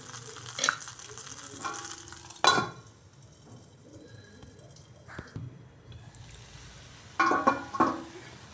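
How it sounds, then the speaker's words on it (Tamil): Adai batter frying over a low flame in an appam pan, a soft steady sizzle running throughout, broken by a few louder scraping clatters of a spatula flipping and a lid being handled. "இதை இப்படி திருப்பி போட்டு திரும்பவும் நல்லா வேக விடுறேன் மூடி வச்சு"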